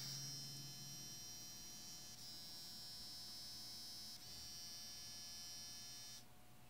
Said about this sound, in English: these motors are rotating consecutively, so either stop both or both of them rotating at the same time